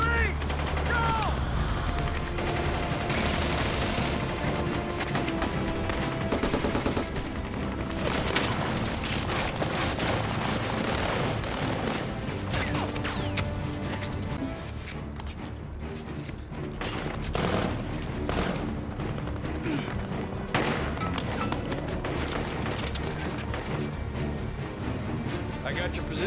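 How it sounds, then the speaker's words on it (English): Cover fire in a homemade war movie: dense, continuous gunfire and booming bursts fill the whole stretch, layered with a loud background track and steady, without pause. "we're gonna lay down some cover fire for him on 3"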